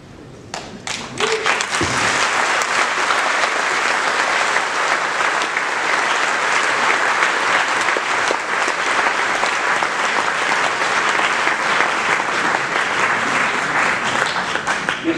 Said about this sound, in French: Merci de vos chaleureux applaudissements.